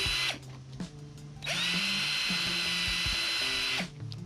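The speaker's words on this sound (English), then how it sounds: "drill those in first," A power drill with a 1/16 bit bores small screw holes in an upper cabinet door, whining in two sustained bursts with short pauses and motor spin-down between them, close and loud with no talking.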